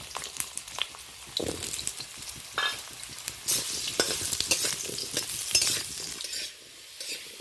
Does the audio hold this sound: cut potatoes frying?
yes